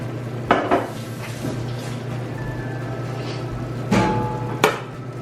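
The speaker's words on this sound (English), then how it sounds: "and then I'll stir it all up" Guyanese duck curry is stirred in a pot, a spoon scraping and clanking against the metal a few times over a low steady simmer, close up and without talk.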